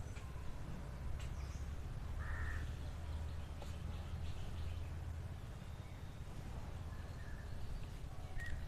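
A crow caws faintly and far off, a few short calls scattered over a low, steady outdoor background rumble.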